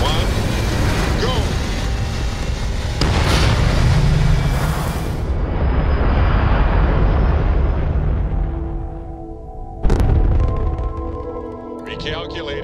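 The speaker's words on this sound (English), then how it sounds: "Ready for takeoff in 3, 2, 1, go!" A VIPER Class B heavy corvette spaceship lifts off in Starfield, a loud, sustained broadband engine roar that builds, eases, then surges with a sharp blast near the end before settling into a lower hum.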